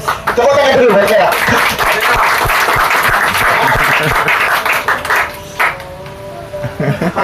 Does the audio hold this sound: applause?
yes